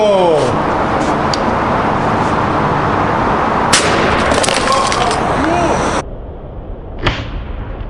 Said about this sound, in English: that's what happens when the airbag blows up in your face